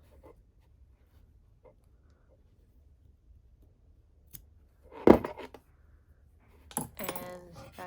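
A pair of scissors snips a yarn tail from a crocheted wine bottle hat, a single sharp close cut in near silence followed by a brief rustle of handling.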